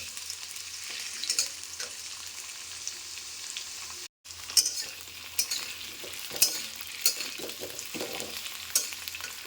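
Diced potatoes fry in hot oil as they are stirred in a pan for a vegetarian papad curry, a constant sizzle broken by close scraping and clinking strokes, with one brief dropout midway.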